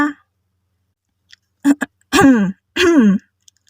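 A person clears their throat a few times in short, rough bursts, close and fairly loud, with quiet pauses between.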